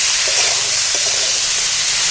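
Cauliflower frying in hot oil for singara filling, a loud, steady sizzling hiss that runs unbroken and close throughout, with faint stirring clicks underneath.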